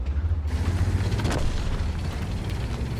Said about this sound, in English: But we take a shot at this AT-8.